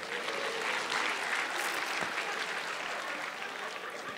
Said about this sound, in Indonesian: Tepuk tangan untuk Bapak Panji Pragiwaksono